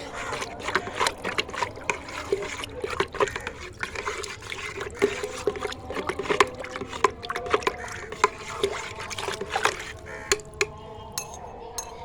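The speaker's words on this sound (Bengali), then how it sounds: "এবার এই জলটা আমি এই পিটুনিয়া গাছের গোড়ায় দেব ভালো করে মিশিয়ে নেব" DAP and potash fertilizer being stirred into water in a container, giving soft sloshing and trickling with irregular light clinks, close and fairly quiet.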